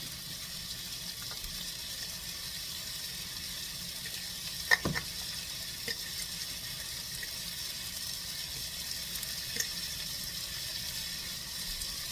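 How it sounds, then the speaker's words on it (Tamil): Tomatoes sauté in a pan for a village-style fish curry, giving an even, constant sizzling hiss up close, broken by one sharp utensil clink midway. "தக்காளிக்கு நல்லாவே வதங்கணும்."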